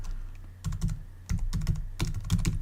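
Quick bursts of keystrokes on a computer keyboard, several short runs of clicky typing close by with brief pauses between, no talk.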